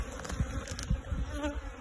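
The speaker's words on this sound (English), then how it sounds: "This is a box of bees." Bees buzz inside a hive box during an early-season winter inspection, a close, steady droning hum with wavering pitch.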